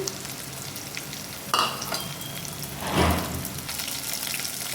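Ingredients frying in a pan for bottle gourd curry, a steady close sizzle with a sharp burst as something is tossed in and a brief stir, no talking.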